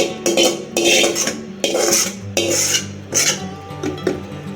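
A spoon scrapes and clatters in a pan as sambar masala mixture is folded into rice, several loud strokes in a steady rhythm, close up with no talk.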